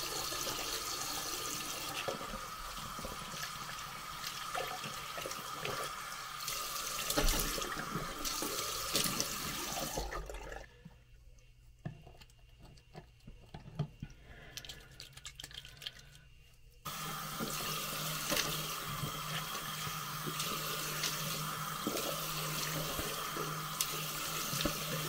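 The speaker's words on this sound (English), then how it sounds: "Of course, I always wash my hands first." Hands washed under a running tap, a close steady rush of water that cuts out briefly midway, leaving faint splashes and handling sounds, then resumes full and continuous, with no talking.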